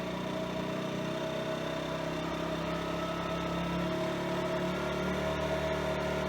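Generac IQ2000 inverter generator running in turbo mode, a steady, close, continuous engine drone with an even hum and no variation across the few seconds.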